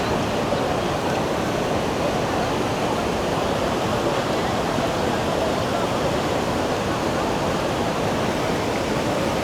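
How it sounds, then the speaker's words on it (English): Iguazu Falls waterfall roaring, a constant dense wash of loud rushing water with no breaks, close and overpowering throughout. "You can really see the full force of the power of this waterfall right now"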